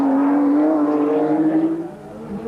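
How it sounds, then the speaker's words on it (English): A Nissan R32 GT-R race car at the 1991 Bathurst 1000 top-ten shootout takes the final left-hander with a loud, sustained engine drone whose pitch holds and then drops as it fades slightly near the end. "Drew Price comes down into the left-hander now for the final time."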